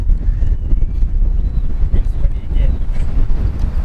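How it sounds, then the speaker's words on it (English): Strong wind buffets the microphone outdoors at a skate spot in Texas, producing loud, uneven low rumbling gusts that pulse throughout. "I can't even talk because it's too windy."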